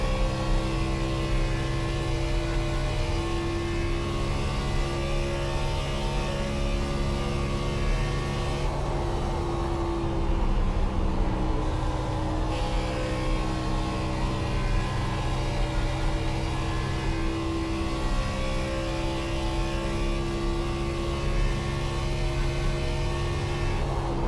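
Racing-sim NASCAR Cup stock car engine at Atlanta Motor Speedway, a steady loud droning V8 under sustained throttle with a brief lift around the middle before returning to full power, no talk.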